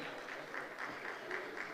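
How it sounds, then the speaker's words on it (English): An audience at a graduation ceremony claps in a steady, moderately distant patter of applause lasting under two seconds, faint and continuous. "Keep clapping, please."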